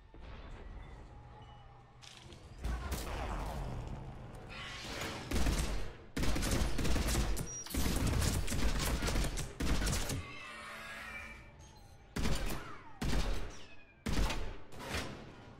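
Rifle fire from a Mass Effect 3 firefight comes in repeated bursts and single sharp shots, loud and close, separated by brief gaps, with rapid volleys clustering in the middle and a few isolated shots near the end.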